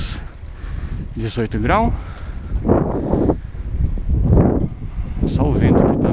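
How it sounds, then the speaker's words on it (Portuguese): Fairly strong outdoor wind buffets the microphone with a steady low rumble while someone talks in Portuguese over it. "Só o vento que tá meio que um pouquinho forte."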